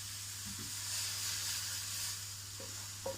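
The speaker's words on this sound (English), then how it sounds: "So I'm frying the pancetta or the lardons." Pancetta lardons frying in a pan, a soft continuous sizzle and crackle, fairly quiet and close, with a few small clicks near the end and no speech.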